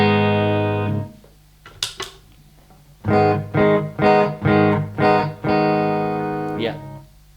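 A distorted electric guitar plays through an Engl Metal Master amplifier with a bright tone: a sustained chord, a short pause with scratchy muting, then a run of five rhythmic chugged chords ending on a ringing chord.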